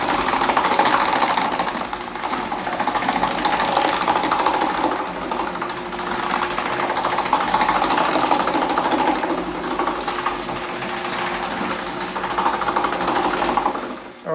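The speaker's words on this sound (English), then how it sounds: "These are diamond discs that we use to hone the floor and remove the damage." A floor machine with diamond discs hones an onyx marble floor, giving a steady, close mechanical whir and hum that holds evenly without pause.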